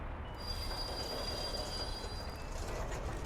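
A freight train in the video game Workers & Resources: Soviet Republic rumbles along with a sustained high-pitched wheel squeal over a steady low rolling roar, close and loud, with no talking.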